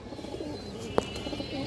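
A single short coo from a female pigeon of an old bloodline, faint and close, over a quiet background hum.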